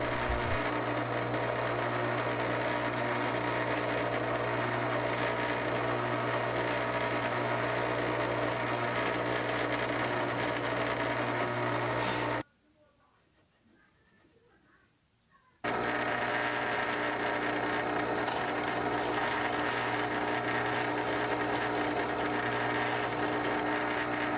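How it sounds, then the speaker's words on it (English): A steady, loud drill motor whir runs continuously while drilling and counterboring screw holes in a knife handle, cuts out for about three seconds, then resumes at the same level. "Then I drill and counterbore the holes to fit the screws"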